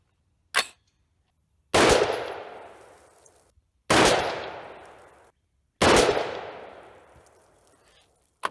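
Rifle fired at a range with 60 grain V-Max reloads: a faint click, then three loud, sharp shots about two seconds apart, each followed by a long decaying echo.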